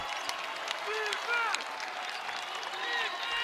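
A college basketball arena crowd at the Rock cheers and applauds during Monmouth versus Seton Hall, a sustained roar with scattered squeaky sneaker chirps under a commentator's voice.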